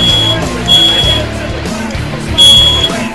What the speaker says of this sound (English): I set off the smoke detector.